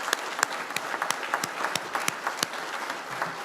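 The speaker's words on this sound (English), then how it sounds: "please join me in applause for the parents and guardians of these incredible students" Graduation ceremony audience applauding the students' parents and guardians: a steady crowd of clapping hands, with several sharp, nearby individual claps standing out above the dense applause.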